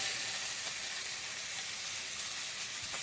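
Spice paste with salt, turmeric and tomato sautéing in oil for mutton curry, a dense, continuous close sizzle with faint bubbling and occasional stirring scrapes, loud and steady throughout, no voices.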